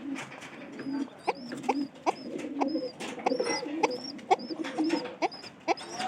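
Pigeons in a loft, one feeding its chick: rhythmic soft cooing and repeated squeaky begging calls close by, recurring every half second or so with rustling in between.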